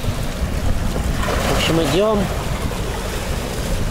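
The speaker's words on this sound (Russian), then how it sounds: "Опять началось беспорядочное волнение и мотыляет во все стороны." A sailboat crossing the Atlantic is thrown about by confused, choppy ocean waves, with steady loud wind and water rush throughout. Someone speaks briefly over the noise.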